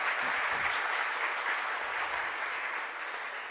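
A church congregation at a parish Mass claps loudly and steadily in a reverberant space, the applause tapering slightly toward the end.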